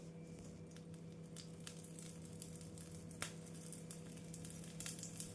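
Wheat-flour dosa batter frying in oil on a hot dosa pan, giving a steady, close sizzle throughout with faint crackles and a few sharper pops, no voices.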